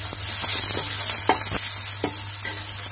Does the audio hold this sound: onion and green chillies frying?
yes